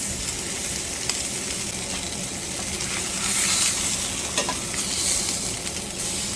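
Ribeye steaks sear in a hot pan on high heat with garlic, thyme and rosemary, producing a loud, steady sizzle and crackle that runs throughout, with occasional stirring or basting noises.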